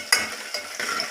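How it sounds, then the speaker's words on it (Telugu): A spoon stirs ginger into drumstick dal in a pan, making a few quick scraping strokes over a soft sizzle. "ఇప్పుడు అంత చక్కగా కలిపేసుకోవాలి"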